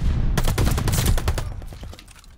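Gunfire in Call of Duty Vanguard on the Gondola map: rapid, loud bursts of automatic shots crowd together, then thin out and fade toward the end, with no talking.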